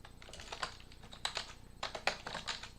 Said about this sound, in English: type in some information, type in a fake birthday